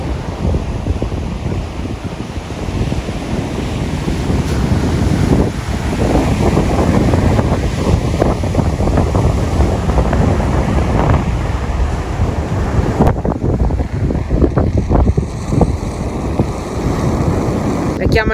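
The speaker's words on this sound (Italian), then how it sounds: "La chiamano anche la spiaggia dei surfisti, c'è un vento incredibile" Strong wind and crashing surf roar at a surfers' beach on the Greek island of Lefkada, a loud continuous wash with heavy wind buffeting the microphone throughout, and a person talking over it.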